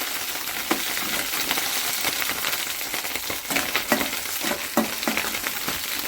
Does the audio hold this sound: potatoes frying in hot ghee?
yes